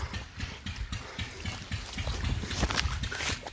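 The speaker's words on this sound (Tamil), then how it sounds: "இங்கே மடம் உடஞ்சி இங்கேயோ போய்கிட்டு இருக்குது தண்ணி" Irrigation water trickles and sloshes through a broken earthen channel among coconut trees, a continuous close, uneven gurgling flow with small splashy surges.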